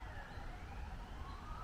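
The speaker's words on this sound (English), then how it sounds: "There's sirens in the background as I video this piece" Police sirens wail faintly in the distance near a cemetery, a thin rising and falling tone over low background rumble.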